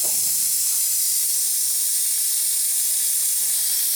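Steady, loud, close steam hiss from the dry-steam boiler of a live steam RC boat, an unbroken bright rush that lasts the whole time with no voices.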